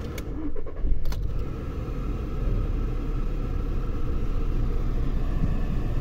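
A 2018 VW Polo TSI with the ignition switched on and the engine running, a steady close low rumble after a brief clink and rustle at the start, no talk.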